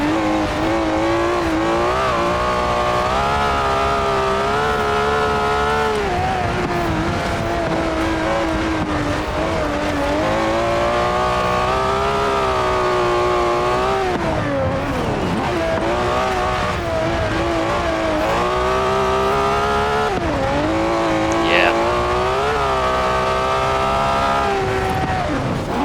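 A 1967 Ferrari 330 racing car in Forza Horizon 4, heard from the interior: the engine roars loudly and continuously, climbing through revs, dropping on gear changes and rising again, with occasional tire squeal.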